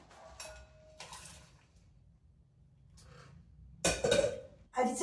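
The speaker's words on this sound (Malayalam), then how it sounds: "ഇനി ഇത് അരിച്ചെടുക്കാം" Cooked vegetables for soup strained out of a pressure cooker, heard as clinks of metal pots and utensils and a splash of poured liquid. Near, with quiet gaps between the clatters.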